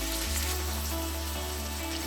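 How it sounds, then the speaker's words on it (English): Chicken breast pieces fry in butter over a medium-low flame, making a continuous, even sizzling hiss with a low steady hum underneath. "Our chicken is now frying."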